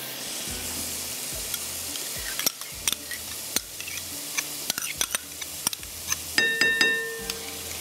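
A spoon stirs milk, sugar and cream together in a bowl, with steady scraping swirls and sharp clinks against the sides, close and clear with no talking.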